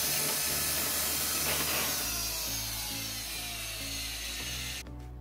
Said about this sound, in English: We drilled holes on the van to install the aluminum clamps.